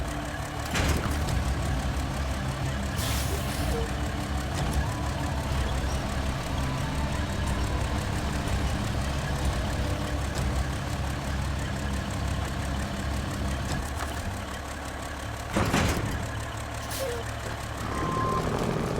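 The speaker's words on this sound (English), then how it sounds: "I think the engine sound was like the P12 before they changed it up." A heavy truck engine idles steadily in a driving video game, a constant low rumble with a few sharp transient clicks and brief bursts over the top.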